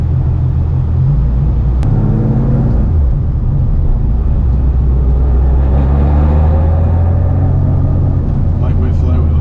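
Idling engine of a custom Porsche 993 RS with a lightweight flywheel, heard from inside the cabin as a steady, loud, low rumble with slight swells, while people talk over it.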